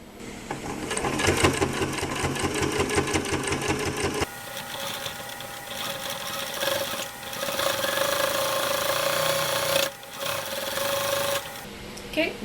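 A sewing machine stitches bias tape onto a washcloth bib, with fast rhythmic needle chatter in close bursts broken by brief stops and a change in speed, while a person talks over it.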